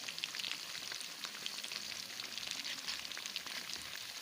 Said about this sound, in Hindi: ये भी बैच फ्राई हो रहा है, इसको भी निकाल रही हूँ।